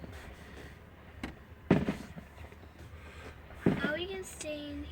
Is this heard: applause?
no